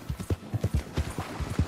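Horse hooves clop rapidly in an irregular galloping rhythm in the Red Dead Redemption II video game, close and fairly quiet, with no talk over them.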